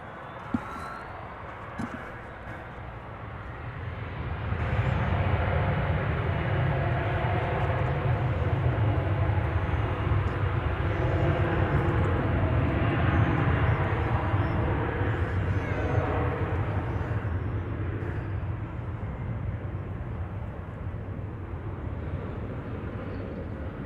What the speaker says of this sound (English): That's American Flight 3350 going to Austin, and Embraer 175.